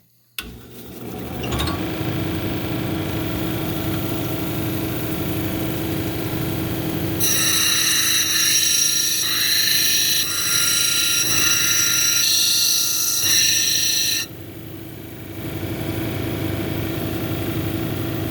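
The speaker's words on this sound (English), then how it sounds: "So we're just going to take it and grind it down to this line here." Jasper stone being ground down on an 80 grit wheel, a steady motor whine with a continuous rough grinding hiss that brightens sharply midway as the stone presses harder, close and loud with no talk.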